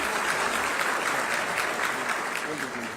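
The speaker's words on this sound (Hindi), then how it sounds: "आप सभी की अनवरत तालियां" An audience at a government ceremony applauds steadily and loudly, a dense continuous clapping that fills the whole span and fades slightly at the end.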